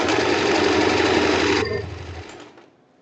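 Sewing machine stitching a hem on a blouse, a fast, close mechanical whir with rapid needle rhythm that runs steadily, then slows and fades to a stop.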